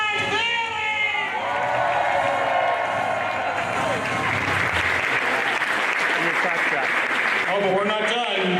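A comic convention panel audience breaks into loud, sustained applause and cheering that fills the room, with an announcer's amplified voice over it at the start and near the end.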